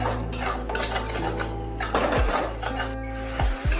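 A spoon stirs spices with turmeric and salt in a pot of chana dal, loud close scraping and clanking against the metal pot over a low sizzle.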